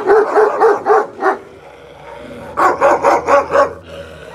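Several dogs bark in two bursts of four or five loud, close barks each, with a quiet gap between them and faint whimpering noise underneath; no one speaks.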